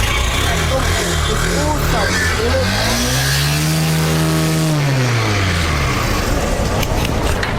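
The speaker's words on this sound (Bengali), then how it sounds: "আমি তারপর সাউন্ডটা দেখা দিই, বাইকের সাউন্ডটা দেখা দিই" A used 2022 Honda Shine SP motorcycle with CBS brakes idles steadily up close, then gives one loud rev that climbs and falls back to idle, with no talking.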